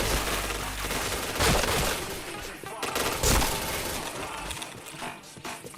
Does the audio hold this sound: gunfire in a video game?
yes